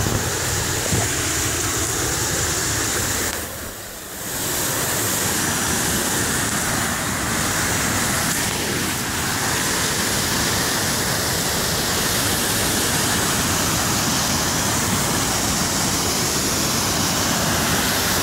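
A river and waterfall rush in a steady, broadband roar. The flowing water stays loud and close throughout, with a brief dip in level early on.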